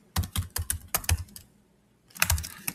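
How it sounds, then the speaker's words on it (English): Rapid typing on a computer keyboard, close bursts of clicking keystrokes, a short pause, then another quick flurry of keys. "But let's type this out more."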